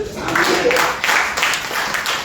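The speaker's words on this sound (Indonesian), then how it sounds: "Bisa tepuk tangan." A crowd applauds steadily, broad bursts of clapping rising and falling in waves, fairly loud and close with no talking over it.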